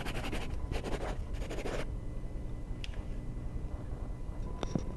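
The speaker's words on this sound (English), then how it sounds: "I need to write this down." Notes written by hand with a pen on paper: a few close, scratchy bursts of quick strokes early on, then quieter faint scratches against a low room hum, with no talking.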